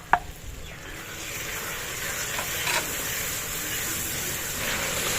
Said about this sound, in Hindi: तो टमाटर को थोड़ा सा भून लिया है, अब इसमें खुश्क मसाला ज़्यादा डाला जा रहा है